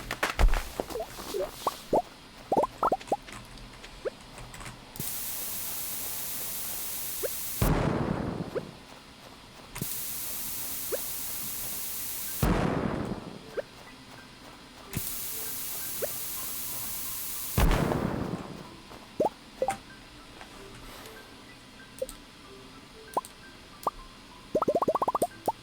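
Regular bombs exploding in the video game Stardew Valley, about four loud rushing blasts, each a broad burst spread several seconds apart, with small plops and clicks between them.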